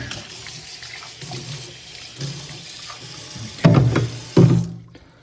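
Liquid is poured during the making of homemade laundry detergent, a running trickle and splash that swells into two louder gushes near the end, with no talk over it.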